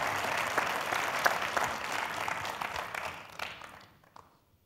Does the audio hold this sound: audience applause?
yes